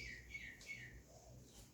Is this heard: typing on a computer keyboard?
no